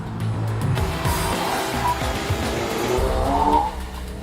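A Ford Focus RS with a 350-horsepower turbocharged four-cylinder engine, weighing 1,500 kilos, roars steadily and loudly close by for several seconds, with gritty crackle on the overrun and no talking.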